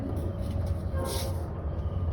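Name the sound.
passing trains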